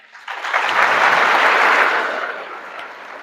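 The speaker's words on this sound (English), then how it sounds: "give her a warm round of applause and a welcome" Warm round of applause from a school audience welcoming a guest speaker at a Holocaust museum event, swelling quickly, holding steady, then tapering off near the end.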